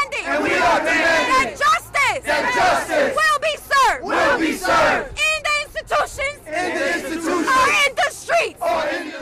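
Protesters at a rally in the Bronx shout and chant in loud, rhythmic bursts, many voices rising together in a close, dense crowd roar with short gaps between the calls.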